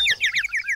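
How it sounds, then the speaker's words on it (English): Small birds in a shop sing a brief, bright run of rapid chirping notes, close and clear with nothing else behind them. "We heard the birds singing, Rat."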